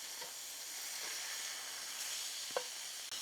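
Eggs fry in a pan with a soft, even sizzle, broken near the end by a couple of brief scrapes as they are turned over.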